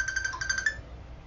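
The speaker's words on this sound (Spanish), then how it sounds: "Están llamando por teléfono." Incoming WhatsApp call ringtone on a phone during a Fightcade stream of a King of Fighters '96 arcade tournament, a bright repeating electronic melody of short chimed notes for about a second before cutting off, mid-loud over a low background hum.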